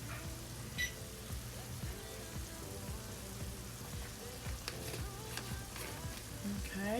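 Garlic powder sizzling in a hot pot for a one-pot weeknight dinner, a steady close frying crackle with occasional stirring scrapes, no talking.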